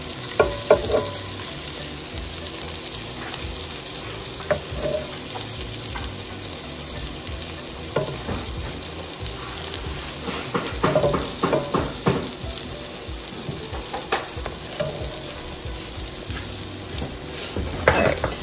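Meatballs frying in a pan with steady, close sizzling and crackle, broken by occasional stirring scrapes and clinks of a utensil, with no talking.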